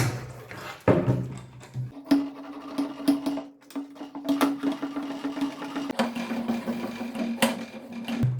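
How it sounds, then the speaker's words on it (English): The handle of a Parkside 5-litre garden pressure sprayer is pumped in repeated strokes, giving a rhythmic series of close squeaky, airy pushes with a steady tonal whine running underneath. "Here we've got the pump handle. Just rotate it and start pumping."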